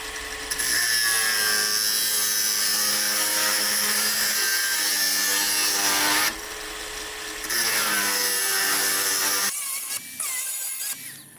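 A ProCraft Industrial AG 125C angle grinder with a forward-offset gearbox cuts metal, giving a loud, sustained high whine that dips briefly as the load changes and then tails off as the disc slows.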